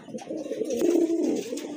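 A pair of large Lahori pigeons gives a soft, low, rolling coo lasting under two seconds, close and fairly quiet.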